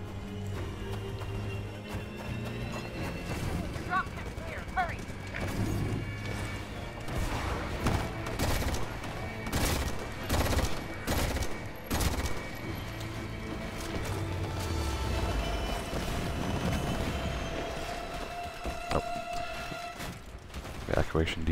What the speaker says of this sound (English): Is there another guy shooting at me?